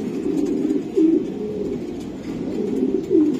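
Racing pigeons give soft, low, repeated coos close by, two throaty rolling calls rising above a steady murmur of flock cooing.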